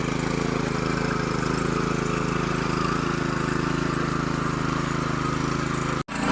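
A farm machine's engine runs steadily in a rain-soaked paddy field after ploughing, a constant close mechanical drone with a brief cut near the end.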